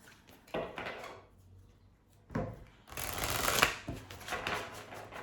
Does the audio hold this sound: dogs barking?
no